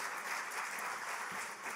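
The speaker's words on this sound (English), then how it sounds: "Let's give you guys a round of applause." Steady applause from a seminar audience at an emergency preparedness gathering, a dense continuous patter of many hands clapping that fills the short span evenly and slightly distant.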